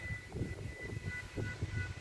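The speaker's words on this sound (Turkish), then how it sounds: "Tren gitti yine tren geliyor. Bakın aynı bir videoda iki tane tren geçiyor arka arkaya." A train runs along a railway line beside a garden on a rainy Black Sea day, giving a steady low rumble with rhythmic clatter and a faint tonal whine, moderately near and continuous.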